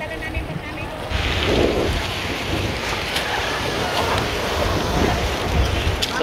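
Rough, churning ocean surf crashes steadily with wind buffeting the microphone, a broad continuous roar of water close by, on the coast of Occidental Mindoro.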